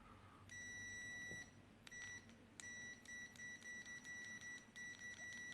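UEI UTLDM2 multimeter giving continuity test beeps, a faint high tone first held for over a second, then a series of short quick beeps in uneven bursts, close and quiet with no talking.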